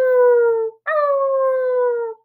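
A human voice imitates a coyote howling at night in the desert, two long, loud, close, wavering howls, the second rising sharply and then sliding slowly down, with no other talk.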